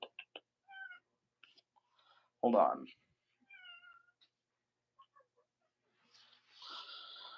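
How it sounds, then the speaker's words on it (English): A pet cat named Bella comes into a quiet room and gives several short meows and breathy wheezes close by, interspersed with a person speaking briefly. "my cat has decided to come in"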